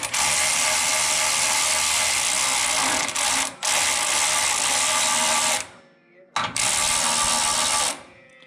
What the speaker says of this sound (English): Gonna tighten up the last bolt here.